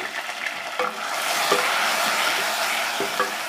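Garlic ginger paste frying in a pan for a mixed aloo matar gobhi sabzi, a steady sizzle with scraping stirs of a spoon at intervals, close and fairly loud with no talking.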